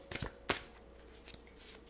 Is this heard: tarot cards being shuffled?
yes